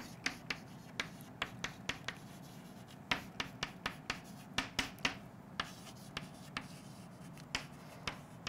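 Pen on paper writing notes by hand, soft continuous scratching broken by steady sharp taps as strokes land, close and fairly quiet, with no voices.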